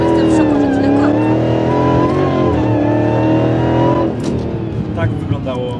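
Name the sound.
Dodge Hellcat Redeye 808 HP at full acceleration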